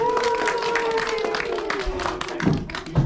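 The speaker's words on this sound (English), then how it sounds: "So please give the board of mystery a big round of applause!" A tour group claps at the Mystery Spot in Santa Cruz, scattered hand claps and light cheering from a small crowd, with a voice talking over the applause and a few thumps near the end.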